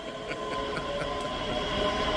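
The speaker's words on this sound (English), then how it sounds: "this train's departing at about 5 minutes late" A ScotRail train pulls out of Edinburgh Haymarket station, a steady loud rumble with light rhythmic wheel clicks and a thin metallic squeal, no voices over it.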